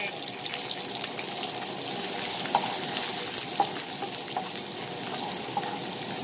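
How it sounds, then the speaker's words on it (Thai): Chili sizzling as it is stir-fried in a pan, a steady frying hiss with occasional clinks of the spatula, close and moderately loud with no talking. "ผัดให้หอมสักนิดนึงก่อนนะคะ"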